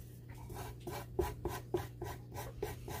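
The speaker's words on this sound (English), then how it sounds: "I got an emery board right there. We'll give it a whirl." An emery board filing away in quick, regular back-and-forth strokes, a close rasping rub repeating about every third of a second against a low steady hum, no talk.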